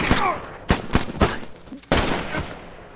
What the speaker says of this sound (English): A heated exchange of gunfire ensues between them, but Allison proves to be the more accurate